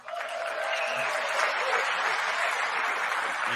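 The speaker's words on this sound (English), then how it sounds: "The clapping feels weaker, doesn't it? It's not as loud." A crowd claps steadily through a political speech, a dense, even wash of applause at moderate distance that holds without voices on top.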